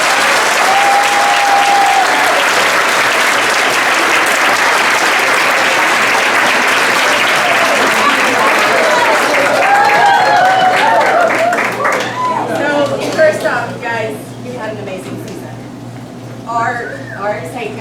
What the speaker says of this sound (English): So let's give Coach Jenkins a round of applause.